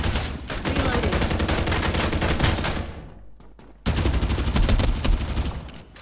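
An automatic gun in Farlight 84 fires long, rapid bursts, loud and close, breaking off into a short near-silent pause before another sustained stream of shots.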